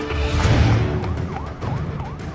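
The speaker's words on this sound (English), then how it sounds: "I heard sirens from all different directions." Several wailing police sirens overlap at a distance, their pitches sweeping up and down over a low rumble of traffic.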